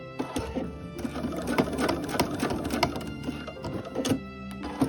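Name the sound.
sewing machine stitching a tote bag seam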